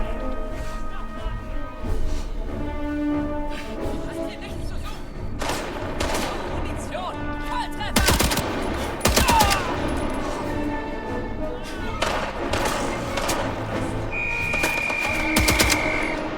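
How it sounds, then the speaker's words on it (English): Gunfire in a video game set among pyramids, scattered shots and rapid bursts ringing out with echoing tails, mixed with other game effects and occasional talk. "The gunshots sounds, you can hear them like echoing off of the fucking pyramids"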